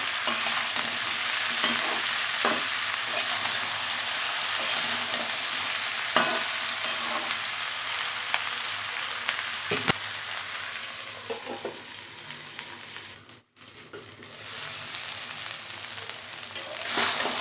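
Onion, garlic and green chilli frying in a pan, a steady loud sizzle broken by regular scraping stirs, with a brief dip near the end before the frying resumes.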